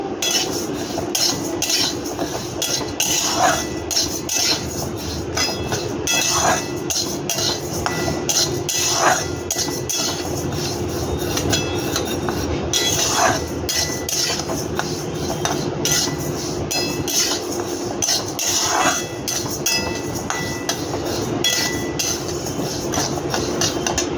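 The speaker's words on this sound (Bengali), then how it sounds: "ডালটাকে ভালো করে ভাজবো বন্ধুরা" Mung dal is dry-roasted in a pan while being stirred, giving a steady rustling scrape broken by regular clicking strokes every couple of seconds, close and unaccompanied by voices.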